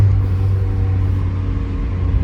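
A Porsche 944 engine rumbles steadily from inside the car as it downshifts into a corner, a loud, close, low drone with no speech.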